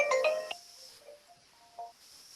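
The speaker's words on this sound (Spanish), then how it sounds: "Es el otro teléfono, disculpad." A second office telephone rings during an online talk on ISO 9001, a short electronic ringtone burst of a few bright tones, fairly close and alone, then a few quieter tonal beeps.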